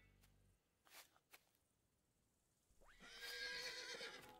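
A horse whinnies in the video game Animal Training Simulator, one bright, clear neigh rising and holding after a few soft clicks and taps, with no talking over it.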